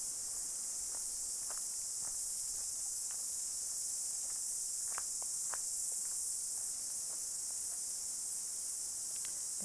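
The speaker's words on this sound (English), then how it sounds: "And here are the cicadas." A steady, high drone of cicadas fills the air throughout a forest walk in the Waitakere Ranges, Auckland, with faint scattered rustles and soft steps beneath it.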